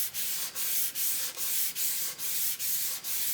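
Sandpaper rubs back and forth across a finish in steady, even strokes, about eight rhythmic passes, each a loud, close, dry scratchy hiss with a short pause between.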